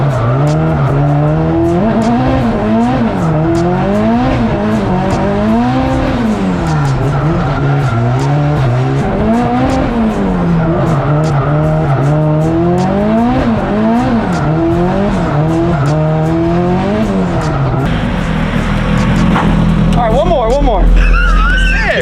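K-swapped Scion FRS race car lapping a track, engine droning and rising and falling through gears with tire squeal, loud and close, ending in a louder rush near the end.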